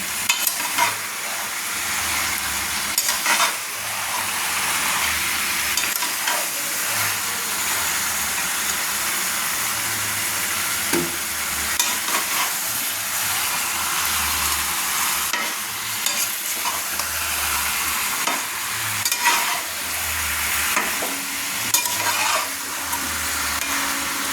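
Pieces of mutton and potato fry in a pan and are stirred, the spatula scraping and knocking in a steady rhythm over continuous close sizzling, with no voices.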